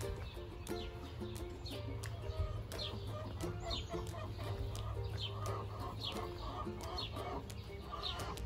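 Chickens and little chicks in a coop, clucking and chirping continuously at moderate loudness, with several birds calling over one another and a steady background hum.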